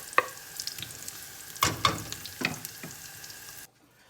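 Vegetables with celery stewing and sizzling in a pan for a vegetable moussaka bake, a steady close fry broken by a few sharp utensil clinks as the mix is stirred, cutting off abruptly near the end.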